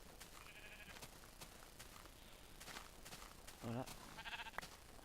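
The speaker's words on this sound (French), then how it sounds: "Oh, il y a beaucoup de moutons, hein." In Minecraft, a sheep gives a short, clear bleat near the end, under a steady game background, soft blocky footsteps, and someone talking in French.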